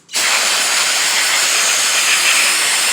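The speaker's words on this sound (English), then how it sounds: "we're going to give a quick hose down of the carburetor just so no dirt falls in anything it's not supposed to" A garden hose sprays down the carburetor of a 20-inch Lawn-Boy mower with a Briggs & Stratton 6.75 engine, producing a loud, steady, close hiss that starts abruptly and runs unbroken, with no voices.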